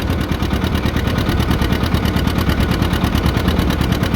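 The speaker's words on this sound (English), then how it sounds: "I'm in third gear, and that's max on the throttle" A John Deere 70 tractor pulling a plow in third gear at full throttle pounds out a loud, rapid, steady engine chatter, close and continuous without any pause.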